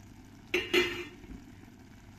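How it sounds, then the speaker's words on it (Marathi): A lid comes off a cooking pot of Jwari Ambil with two quick metallic clinks, followed by a faint simmer. "आता मी झाकण काढते।"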